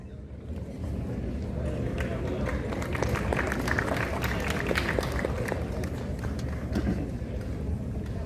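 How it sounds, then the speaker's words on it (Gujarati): At a national homoeopathic summit in Vadodara, an audience claps to welcome a guest: dense, steady applause that swells and holds for several seconds. "તાળીઓથી વધાવી લે આ સ્વાગત સન્માનને"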